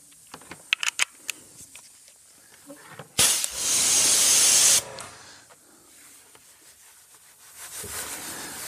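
A pressure washer sprays water on car wheels in one loud hissing burst of about a second and a half, close by, with faint clicks and handling noises before and after in an otherwise quiet space.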